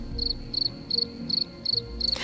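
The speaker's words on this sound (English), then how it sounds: "But all I hear is crickets." Crickets chirping in short rhythmic bursts, about six pulses, steady and moderately close, with a faint low background hum.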